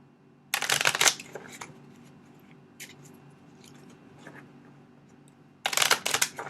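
Tarot cards are shuffled in two brisk riffles, with a few soft taps and rustles in between, close and fairly quiet.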